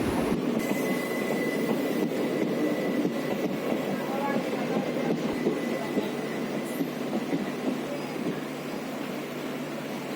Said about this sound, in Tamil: பெங்களூர்லேருந்து காக்கிநாடா போகக்கூடிய காக்கிநாடா சூப்பர் ஃபாஸ்ட் தான் வந்துட்டு இருக்கு